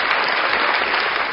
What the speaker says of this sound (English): Can we get applause for that?